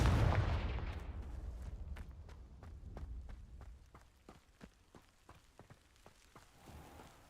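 A Confringo fire spell cast in Hogwarts Legacy, opening with a loud burst that fades into a series of sharp crackling pops and snaps spread over several seconds, with no one speaking.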